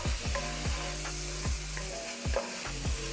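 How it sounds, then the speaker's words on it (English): Chili meat and garlic stirred in a hot skillet, with a steady sizzle under repeated scraping strokes of a utensil against the pan, close and fairly loud, about five strokes in a few seconds. "Now I'll go ahead and stir."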